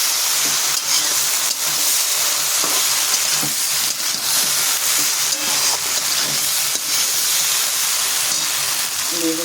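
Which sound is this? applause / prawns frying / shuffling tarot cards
prawns frying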